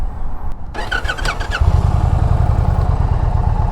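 An Indian Challenger motorcycle's liquid-cooled engine starts up with a rattle, then settles into a steady, throbbing rumble close by, with no voices.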